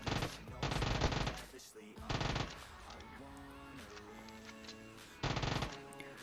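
Gunfire in the mobile battle royale game PUBG Mobile: several loud bursts of rapid automatic fire, separated by quieter stretches with game effects, no speech.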